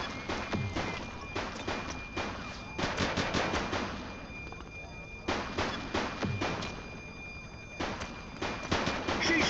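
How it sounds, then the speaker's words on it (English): Gunfire in the police game The Precinct comes as rapid bursts of automatic shots in clustered volleys with short gaps, loud and close, with hints of voices underneath. "She's shooting!"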